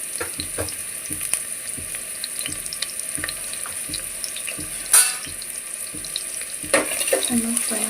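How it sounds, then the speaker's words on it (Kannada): Chopped onions fry in a pan for a methi palav, a steady close crackle with occasional scrapes and clatters and a louder clink near the middle and end, no talking. "ಚೆನ್ನಾಗಿ ಫ್ರೈ ಮಾಡ್ಕೊಳ್ಳೋಣ"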